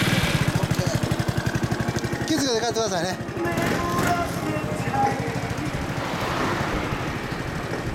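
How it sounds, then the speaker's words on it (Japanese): A Honda PS250 sidecar motorcycle, a one-of-a-kind machine fitted with a BEAMS muffler, idles close by with a rapid, even thumping exhaust beat that softens slightly midway, while people talk over it. "ほんならマフラーのビームスサウンド。"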